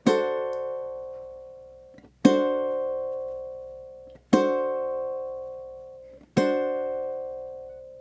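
Four plucked ukulele notes held as half notes, each ringing out and decaying slowly with a gentle, subtle vibrato wobble, evenly spaced about two seconds apart, played alone.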